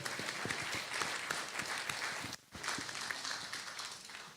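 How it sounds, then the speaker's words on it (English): Audience applause at a political meeting with a prime minister, a steady wash of clapping that briefly dips midway, then carries on, fairly quiet and distant. "can we give Silva a round of applause"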